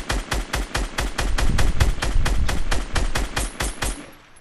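Rapid automatic gunfire in the Fortnite video game: a steady, loud stream of about twenty evenly spaced shots, close up and uninterrupted, with no talk over it.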